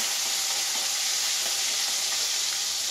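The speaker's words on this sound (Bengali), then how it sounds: "তেল গরম হয়ে গেছে, এবার আমি মাছটা ছাড়ি দেব।" Tilapia fish heads sizzle steadily in hot oil, a dense, even crackling hiss that stays close and constant throughout, with no voices.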